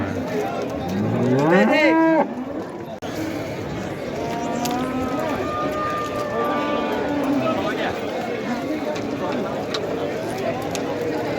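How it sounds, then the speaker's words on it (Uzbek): A bull lows at a busy livestock market in Gijduvon, one long rising moo up close, followed by further lowing from cattle amid crowd chatter and market noise, with people talking throughout. "Mana katta ho'kiz."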